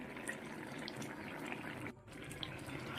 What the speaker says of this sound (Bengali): এখন দিয়ে দেবো জল ঝোলের জন্য।